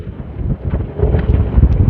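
Strong wind buffets the microphone in loud, continuous low rumbling gusts, rising in force over the second half, during a criterium bicycle race.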